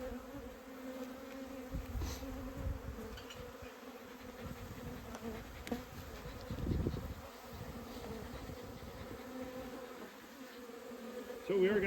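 Honey bees buzz in a steady, dense drone close by during a hive inspection as the open hive is put back together, with occasional louder passes and faint handling noises underneath.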